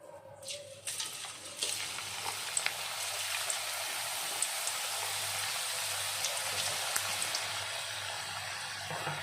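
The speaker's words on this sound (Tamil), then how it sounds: "ஆயில் சூடாயிடுச்சு இப்போ இந்த உருளைக்கிழங்கெல்லாம் போட்டுக்கலாம்" Potato slices are dropped into hot oil in a kadai for potato chips. A brief clatter gives way to a steady, loud, hissing sizzle that continues evenly to the end.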